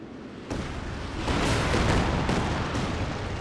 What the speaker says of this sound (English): Now he's bringing the Werfer forwards. Oh, this is going to be another long range barrage though.